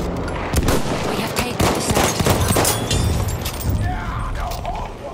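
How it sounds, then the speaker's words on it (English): Battlefield 1 machine gun fire on the Zeebrugge map, rapid loud bursts of automatic shots with heavy impacts and explosions mixed in, dense and close throughout. "Machine gun over there."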